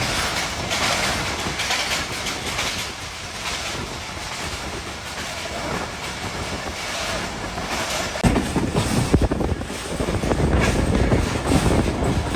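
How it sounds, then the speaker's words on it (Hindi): Awami Express passenger train pulling out of Hasan Abdal railway station, a steady loud rumble of wheels and carriages rolling past up close, growing heavier with rhythmic clatter toward the end. "तो ये ट्रेन है जा रही है जिस ट्रेन से मैं आया था, अवामी ट्रेन"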